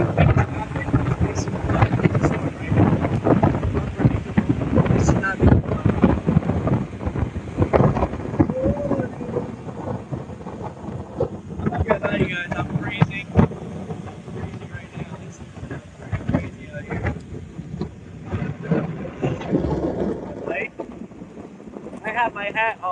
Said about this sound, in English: so I came out here and it's storming